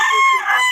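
A single short, high-pitched call from a hen, close and clear.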